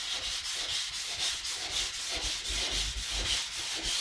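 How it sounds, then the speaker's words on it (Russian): Hand sanding a primed car fender with 600-grit sandpaper, a close, steady rhythmic scrubbing with regular back-and-forth strokes about twice a second, with no talking. "600-й шкуркой просто аккуратно начинаем вышкуривать"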